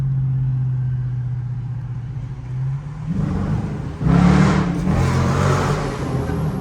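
Car engine heard from inside the cabin, holding a steady low drone and then surging hard into loud, rising revs as it accelerates with strong torque, with brief shifts in pitch.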